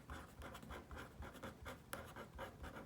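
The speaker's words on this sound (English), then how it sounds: "So I'm going to write that on the inside." A pen or pencil writes on a paper foldable, a soft rhythmic scratching of quick strokes close by and faint, continuing steadily with no voices.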